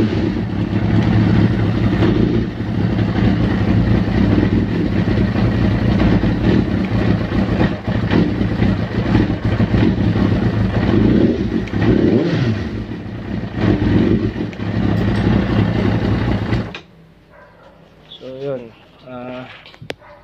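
Kawasaki ZX-6R sport motorcycle engine running with fuel screws set two turns out, throttle blipped repeatedly in a loud, close sustained drone, then cutting out to near quiet at the end.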